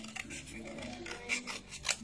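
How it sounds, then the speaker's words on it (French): Scissors cut out a paper robot shape, giving a few quiet, close snips with soft rustling in between, faint and without talk. "Avec des ciseaux, si vous avez."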